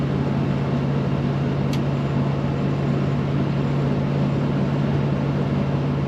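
Inside a 1936 Ford Deluxe Tudor sedan street rod cruising at 60 mph, a steady, even engine drone and road rumble hold with a constant low hum throughout, no voices present.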